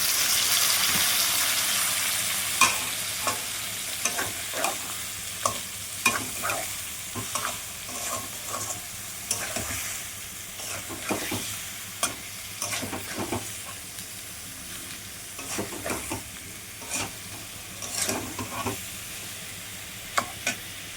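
Potatoes coated in chilli paste, ground chilli, cumin and turmeric fry in a pan for a potato-paneer curry, with a steady sizzle and repeated scraping stirs of a spoon every second or so, close and alone.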